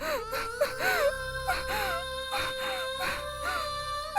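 A person crying in sobbing, wavering wails, each breath broken into rising and falling moans, close and steady throughout, with a faint tonal drone underneath.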